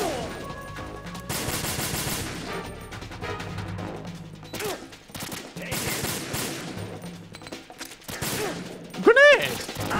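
Gunfire in Metal Gear Solid 2: rapid automatic bursts and metallic impacts mixed with crashes and clanks, fairly loud and dense, with a brief pause midway before more shooting.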